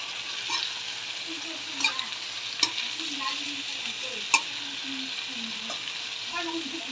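Sautéed bitter melon (ampalaya) being stirred in a pan, with a soft steady sizzle under scattered scraping clicks of the utensil, and a few sharper knocks standing out, close and without voices.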